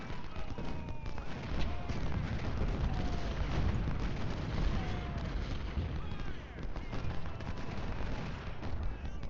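Massed musket fire on a Civil War battlefield in Ultimate General: Civil War, a steady far-off crackle and rumble of volleys that carries on without a break, with someone talking quietly over it.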